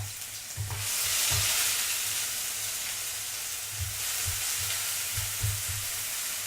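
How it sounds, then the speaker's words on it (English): Onion, garlic and ginger sauté in a pan for a Burmese noodle soup, giving a steady bright sizzle and hiss with repeated low scraping knocks of a utensil stirring the pan, close by and without talk. "So we're just going to saute the onion,"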